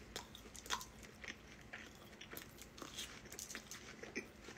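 Close, faint biting and chewing of fried chicken, with soft crunches and wet mouth sounds over a steady background hiss and no clear talk.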